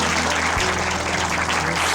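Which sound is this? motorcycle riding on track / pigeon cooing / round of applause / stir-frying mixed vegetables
round of applause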